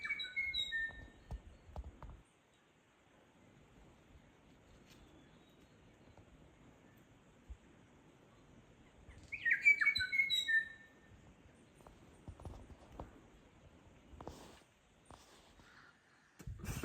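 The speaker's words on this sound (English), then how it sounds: "Beautiful bird." Wild bird song rings out beside a rough bicycle track on the Heaphy trail, a few bright chirps near the start and a louder burst of trilling calls midway over quiet tyre and gravel noise.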